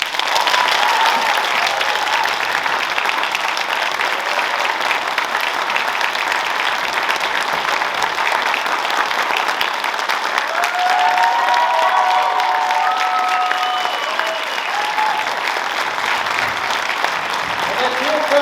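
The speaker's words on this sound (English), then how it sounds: "let's give a round of applause to our amazing cast of Tiny Tim's Christmas Carol" A theatre audience at a Christmas show applauds the cast of Tiny Tim's Christmas Carol with loud continuous clapping and some cheering, and voices rise over the noise in the later part.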